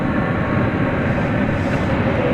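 A Viva Aerobus airliner taking off at DFW Airport at night, a loud, steady low roar of jet engines that rumbles on without letup.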